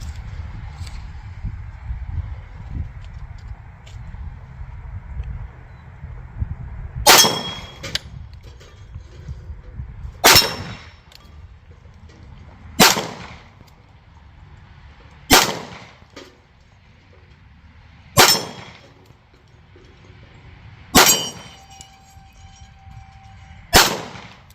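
A CZ 75 B pistol fires seven sharp, loud shots at an outdoor range at 25 yards, spaced a few seconds apart, each with a quick cracking report and short echo, with low rustling between.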